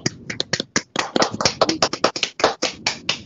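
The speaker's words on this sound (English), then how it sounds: "round of applause" A small audience gives a round of applause during an online talk on miniature books, with dense, uneven hand claps running steadily close up, with no talk over them.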